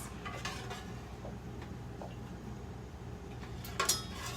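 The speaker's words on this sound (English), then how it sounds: "So, stir this all together, guys" A spoon stirs creamy lemon caper butter sauce in a pan, faint soft scraping and light clinks against the metal, quiet and intermittent with a brighter clatter near the end.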